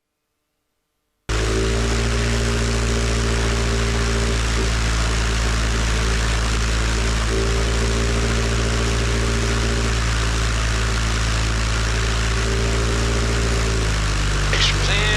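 A Zenith Super Duty light aircraft's engine runs steadily at run-up power, a loud, continuous droning hum with a brief dip in pitch near the end, close by and alone without talk.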